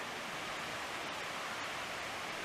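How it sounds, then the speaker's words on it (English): Soft, steady broadband rush of a river flowing near a campsite along the Thornton River Trail in Shenandoah National Park, faint and distant, with no voices. "You can hear the river from here."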